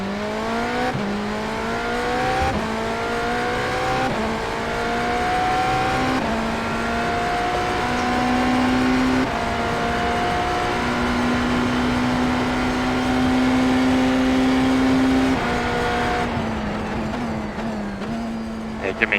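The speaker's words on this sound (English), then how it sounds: "So Andy is saying the car is a lot louder." Race car engine in an IMSA endurance racing game, droning steadily with rising and falling gear tones and shifts through the whole stretch, loud and continuous.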